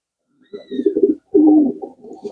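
Pigeons coo in a village loft, a pair of soft, throaty bursts, the second louder and longer, with a faint high whistle over the first.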